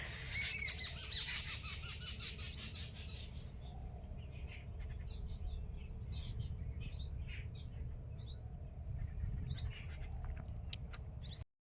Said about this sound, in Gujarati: પંખીડા કેવા સરસના બોલે છે